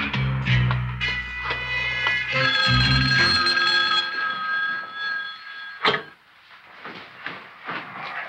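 A telephone rings with bright, repeated electronic trills that hold for a few seconds and then fade, followed by a sharp click and quieter handling sounds.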